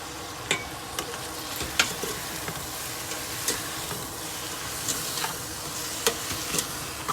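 Beef frying in a pan with squash and spices sizzles steadily and loudly, with occasional sharp stirring clicks of a utensil against the pan.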